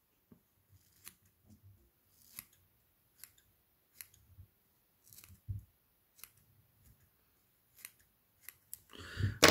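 Scissors make quiet, scattered snips and clicks close by while tying a fly-fishing mouse pattern, irregularly spaced, ending in a slightly louder rustle.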